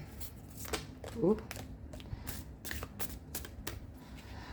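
A deck of tarot cards is shuffled in a few short riffling bursts, with a person talking briefly over the handling.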